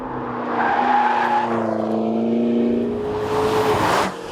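A 2013 McLaren MP4-12C Spider engine climbs steadily in pitch toward its 8,500 RPM redline, then drops off sharply near the end; loud, continuous, no talking.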